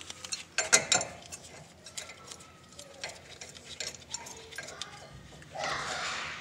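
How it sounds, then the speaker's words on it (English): An adjustable wrench spins a tie rod on a Toyota 4Runner/Tacoma rack and pinion, giving a run of close metallic clicks and ratcheting clatter in irregular bursts, ending in a brief steadier rasp. "Or you can use the adjustable wrench and spin it from right here."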